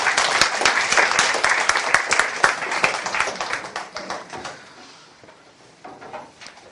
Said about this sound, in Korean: 박수 한번 쳐주세요.